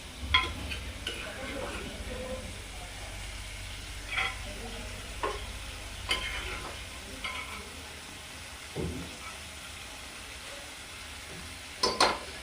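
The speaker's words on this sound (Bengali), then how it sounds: "পটলটা ভাজা হয়ে গেছে, আমি পটলটা তুলে দিচ্ছি।" Pointed gourd pieces fry in oil with a soft, steady sizzle as they are lifted out, punctuated by a few sharp utensil clinks and scrapes against the pan, close by.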